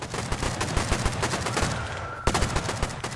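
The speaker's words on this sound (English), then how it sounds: "We have small arms fire going off left and right down here." Gunfire and small arms fire rattle through a chaotic raid in the video game Rust, with loud, close, rapid volleys of overlapping shots, a brief lull, then another sharp burst of firing.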